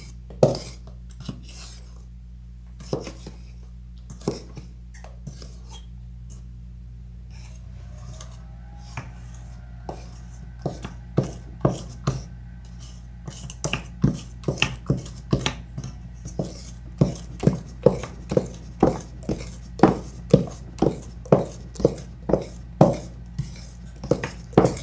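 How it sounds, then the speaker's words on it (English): Eggs being beaten by hand in a bowl for brownie batter, a steady series of sharp clicking taps of utensil against bowl that starts sparse and grows into a fast, even rhythm, close and clear with no talking. "The eggs look well beaten."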